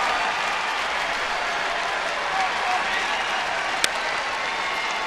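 A baseball stadium crowd at a San Diego–San Francisco game applauds as Barry Zito heads to the bullpen, a broad, steady wash of distant clapping and crowd noise with one sharp pop near the end.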